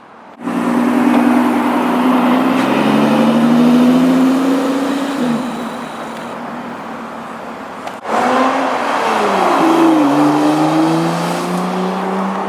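A Lotus Evora sports car engine drones loud and close, its pitch climbing steadily as it revs, dropping briefly, then surging again after a sharp cut, with no voices over it.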